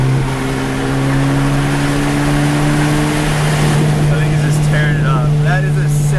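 Mitsubishi Evo making a fast flyby, a loud engine drone with steady tones that swells and passes, with a voice briefly audible near the end.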